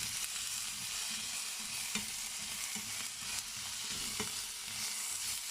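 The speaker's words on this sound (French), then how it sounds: "je suis en train de tourner les oignons assez fort pour que ça passe bien quoi au début" Onions for a zucchini gratin sizzle as they are stirred vigorously in a hot pan, with a constant quiet frying hiss broken by scraping spatula strokes every second or so, close but faint.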